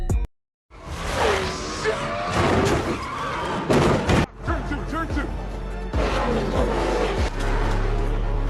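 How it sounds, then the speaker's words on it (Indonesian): A race car in a Fast & Furious 9 movie scene gets bumped and crashes: engines roar and whoosh, tires skid, and heavy impacts thud and crunch. The sounds are loud and come in bursts, with brief voices mixed in. "terjadi sodok-menyodok bumper belakang mobil Jack, yang mengakibatkan mobil dan Jack harus mengalami kecelakaan."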